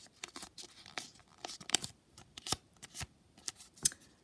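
Paper being creased and folded by hand for a Maundy Thursday craft: soft crinkles and sharp crisp swipes come in irregular bursts, close and fairly quiet.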